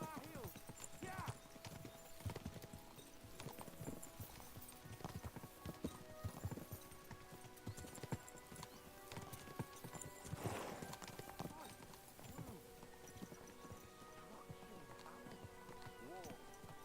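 Hooves clip-clop steadily as horses ride along in the video game Kingdom Come: Deliverance II, with rain pattering and a horse whinnying, as voices talk quietly over them.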